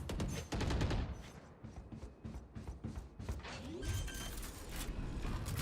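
Dense, continuous automatic gunfire from a Valorant esports match, rapid overlapping bursts and mechanical clatter filling the whole stretch at close range, with no talk over it.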